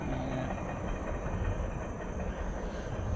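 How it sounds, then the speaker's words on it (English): A mixed freight train rolls past near Taylorsville Dam, a steady low rumble and rattle of wagons on the rails holding at an even level throughout, with no voices over it. "You still hear the train going down through there."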